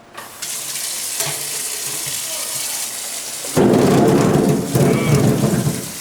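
Running tap water rinses a potato at a deli sink, a steady broadband rush that grows louder and fuller partway through, continuing without a break and with no talking.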